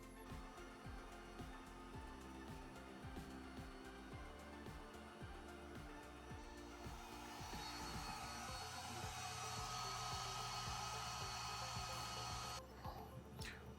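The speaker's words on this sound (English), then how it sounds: "So we are going to try engraving this on some wood instead to see how that turns out." A laser engraver on a 3-in-1 printer engraves wood with a steady mechanical whir and fan-like hum, with faint rhythmic ticking early on, and it stays even throughout.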